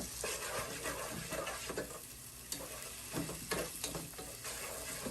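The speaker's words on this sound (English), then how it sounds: "You're going to let the tomato paste melt" Tomato paste sizzles and melts in a hot pan while being stirred, a steady close crackle with scraping strokes throughout and no talk.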